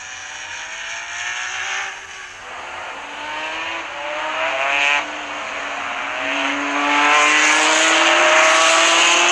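Race cars in the Sunset 500 on a sim racing circuit roar away at the green flag, engines rising in pitch as they accelerate together, loud and close with a dense, continuous whine building across the clip.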